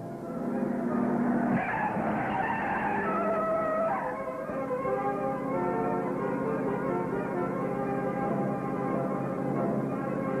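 A car skids during a pursuit, with a loud tire screech and engine roar at the start that settle into a steady, droning engine hum with no voices.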